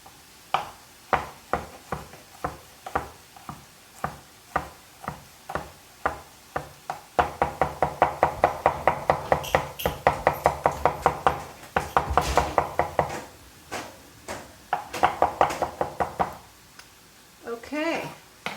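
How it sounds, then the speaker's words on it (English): A knife mincing two garlic cloves on a board gives rapid, close, sharp chopping taps, spaced at first and then quickening into dense bursts, with a voice speaking in between. "2 cloves of garlic. Let's mince these guys up,"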